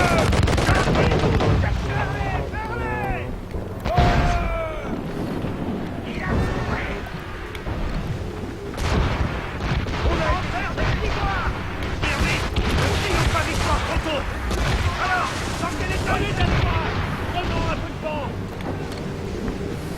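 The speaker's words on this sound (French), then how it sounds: "Arme tes mortiers, Shane." Ship mortars boom in an Assassin's Creed Rogue naval battle, a dense, continuous barrage of heavy blasts and rumbling over roaring wind, with voices talking throughout.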